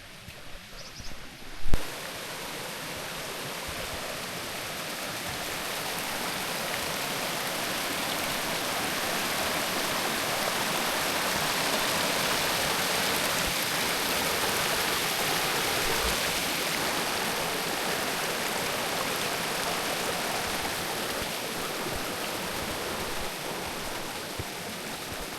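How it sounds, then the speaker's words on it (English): A small mountain stream and waterfall on the trail to Chasm Lake, among ice, rush in a loud, steady, close wash of water that holds constant throughout after a brief bump at the start. "we get a nice little stream and waterfall"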